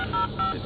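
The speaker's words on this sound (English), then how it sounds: "I will manually execute the jailbreak protocol by using the keys on this phone" Telephone keypad tones pressed on a phone inside the Batman Arkham video game, two short electronic beeps in quick succession, clear and close with a steady background hum.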